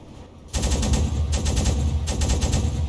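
Rapid, sustained bursts from a submarine deck gun in the Uboat game, starting abruptly after a quiet moment and hammering on loudly with a brief dip midway before resuming.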